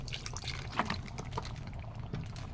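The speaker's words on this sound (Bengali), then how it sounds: "এখন আমি এটাতে সামান্য একটু ঝোল দিয়ে দিব।" Broth poured into chicken curry cooking in a pan gives a soft, steady liquid trickle with faint sizzle and small clinks, quiet and close, without talk.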